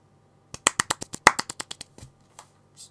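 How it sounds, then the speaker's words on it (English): Quick burst of sharp hand claps, about a dozen crisp close claps in a fast run that slows and thins into a few scattered final claps, alone in a quiet room. "That's a quick clap, because I need it."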